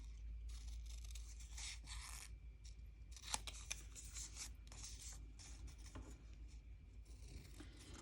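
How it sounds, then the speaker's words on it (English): Scissors snip ribbon ends while a Valentine treat box is finished, giving a run of small, close, crisp cuts and rubbing scrapes over a steady low hum, with two sharper snips near the middle. "I'm just going to snip the ends here and make this one pretty"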